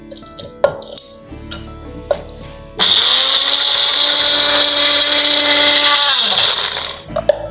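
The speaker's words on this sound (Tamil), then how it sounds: "இதை நம்ம இப்போ சட்னியை அரைச்சிடலாம்." An electric mixer grinder whirs loudly and steadily for several seconds, grinding ridge gourd peel chutney, with brief clinks and handling noises of the jar before and after the run.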